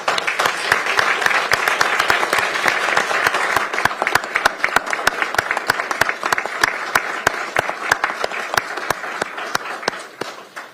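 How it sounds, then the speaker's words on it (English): Council meeting audience applauding a retiring Pierce County employee after 38 years of service, a loud, steady round of many hands with crisp individual claps standing out, easing slightly near the end. "Let's give him a round of applause."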